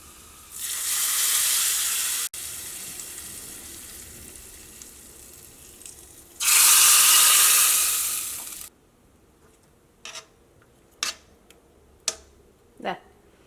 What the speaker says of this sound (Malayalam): താളിച്ച് ചേർക്കുമ്പോഴായിരുന്നാലും ഉള്ളി നന്നായിട്ട് മൊരിയണം.